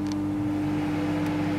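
Microwave oven running while heating something, a steady loud electric hum with a strong constant tone that carries unchanged from start to finish, no talking.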